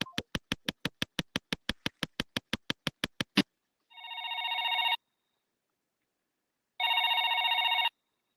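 A telephone rings on an incoming call: a fast train of sharp clicks gives way to two long electronic ring tones separated by silence, clear and close with no talk.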